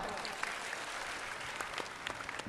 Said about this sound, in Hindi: वाह, ताली बजाओ।